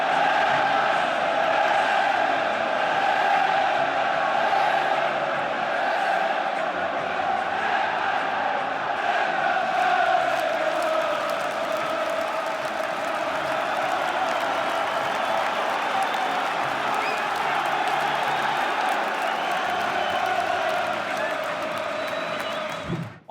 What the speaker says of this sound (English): I've actually got a few clips of the crowd, of the atmosphere.